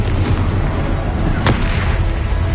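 Confringo blasting spell exploding in the video game Hogwarts Legacy: a loud, dense booming blast that rumbles continuously throughout, with one sharper burst near the middle.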